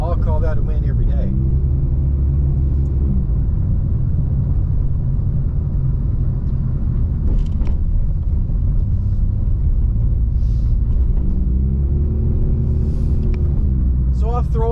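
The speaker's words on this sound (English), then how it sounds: "just enjoy the little ride as we're testing the Civic" Steady low road rumble and tire hum inside a 2012 Honda Civic on winter tires, loud and continuous throughout, with a brief tonal swell near the start and again near the end.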